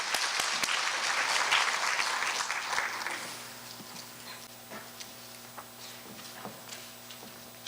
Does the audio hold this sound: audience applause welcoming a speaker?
yes